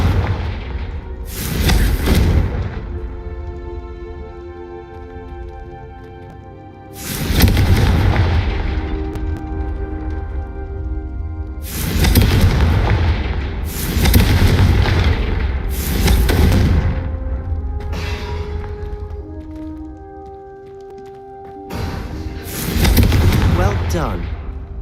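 Confringo fire-blast spells from Hogwarts Legacy go off in the video game as five loud, booming bursts spread across the stretch, each a broadband crack with a decaying rumble over a sustained musical score, with speech between blasts.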